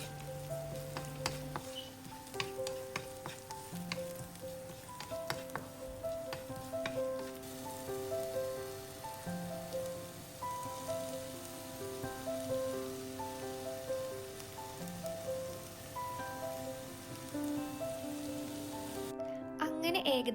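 Spices, ginger, garlic and green chilli sautéing in coconut oil until brown make a steady, soft crackling sizzle with light popping throughout, fairly quiet and close, with faint voices and music in the background.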